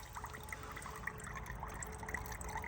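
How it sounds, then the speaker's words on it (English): Water trickling through a Pure Clear water filter outdoors at a snowy tarp and bivy camp, a faint steady dribble with small drips, quiet and continuous throughout. "I'm just filtering some water there with the Pure Clear."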